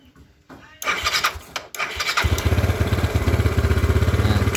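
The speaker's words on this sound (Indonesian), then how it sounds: "di sini ya teman-teman motor sudah nyala" An old Yamaha Mio scooter engine starts after a few clunks and rattles, then settles into a loud, steady, throbbing idle close by.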